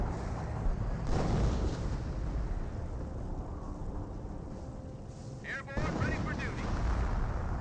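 Bomb run explosions in Company of Heroes, a dense rumbling stream of blasts and gunfire heard at moderate distance, with voices talking over the battle noise.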